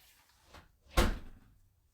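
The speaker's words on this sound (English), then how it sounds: "It's a very loud knock." Someone bangs loudly on a door: a single heavy thud, preceded by a softer hit, with quiet moments around them.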